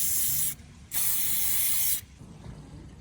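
An aerosol can spraying shiny gloss lacquer onto a painted watch dial, two close, loud hissing bursts, a short one then a longer one, with quiet between and after and no talking.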